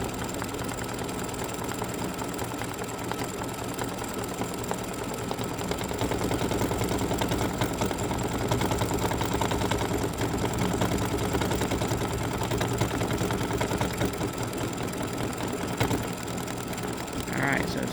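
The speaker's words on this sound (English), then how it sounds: "Now it's doing the satin stitch around the head" An embroidery machine stitching a satin-stitch border around a free-standing-lace Halloween spider's head, its needle running in a fast, steady mechanical chatter that continues without a break for the whole stretch, close and fairly loud.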